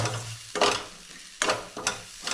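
Sautéed onions with chili powder, turmeric and coriander powder are stirred in a hot pan: a soft steady sizzle broken by four scraping spoon strokes at irregular intervals, close and clear with no talking.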